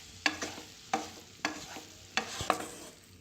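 A spoon stirs soya chunks with onion, tomato and masala in a pan, scraping in about five distinct strokes with a soft sizzle beneath, close and fairly quiet, no voices.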